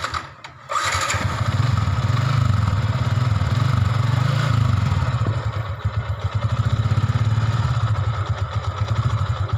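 A motorcycle on its stock exhaust, before any sound booster is fitted, starts up with a short crank and then runs steadily at a close, loud idle with a rough, pulsing rumble.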